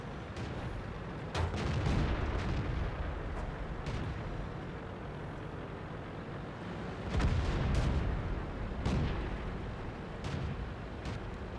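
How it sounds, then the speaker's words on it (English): World of Tanks battle with artillery shells landing: several heavy booming impacts and bursts, notably around the start, near two seconds, and a big cluster around seven to eight seconds, over a steady rumbling game backdrop. "The artillery is zeroing me, so I got to move out of here."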